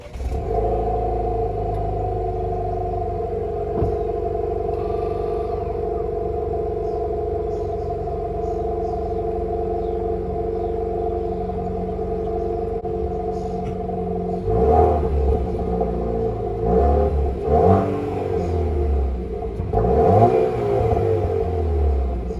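A stock-exhaust 2.0-litre turbo sixth-generation Chevrolet Camaro idles steadily with a low, even rumble, then gets several sharper revs and bursts near the end, all close by and without talk.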